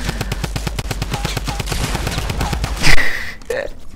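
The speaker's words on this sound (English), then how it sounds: "I have to use a drum gun" A drum gun in the Fortnite video game fires a loud, rapid, evenly spaced automatic burst for nearly three seconds, ending with a sharp blast and a brief trailing game sound.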